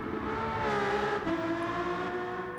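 A high-pitched V12 car engine with titanium exhaust tips revs steadily, its whine holding then climbing slightly, heard from some distance without any talking.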